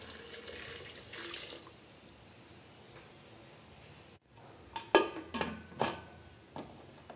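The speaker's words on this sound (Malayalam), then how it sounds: "ഇനി നമുക്കിതിൽ നിന്നൊക്കെ വെള്ളം ഒഴിച്ച് കൊടുക്കാം" Water splashes into a pressure cooker holding ten bananas for banana jam, a running, tap-like pour that fades after a few seconds, followed by several sharp clinks and knocks of the pot.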